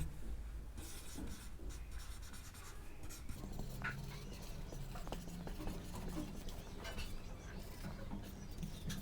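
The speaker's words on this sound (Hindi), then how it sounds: "पहले मैं परिभाषा लिख देता हूँ 1 मिनट में" A definition is written out by hand during a physics lesson, producing faint, continuous scratchy strokes and taps at close range with no talking.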